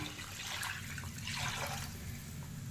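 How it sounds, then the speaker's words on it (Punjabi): Water poured into a pan of gravy for soybean-chunk kofta curry in a Punjabi home kitchen: a steady splashing, trickling pour held close for its whole length, with no talk. "ਹੁਣ ਤੁਹਾਨੂੰ ਜਿੰਨੀ ਕੁ ਗ੍ਰੇਵੀ ਚਾਹੀਦੀ ਹੈ ਉਸ ਹਿਸਾਬ ਦੇ ਨਾਲ ਤੁਸੀਂ ਇਹਦੇ ਵਿੱਚ ਪਾਣੀ ਪਾ ਲੈਣਾ ਹੈ"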